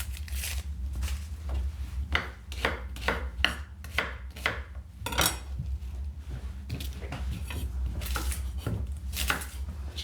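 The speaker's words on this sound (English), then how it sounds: "just really roughly chop them" Kitchen knife roughly chopping shallots, carrots, celery and garlic on a board: a steady run of sharp, close knocks in uneven rhythm, alone with no talk.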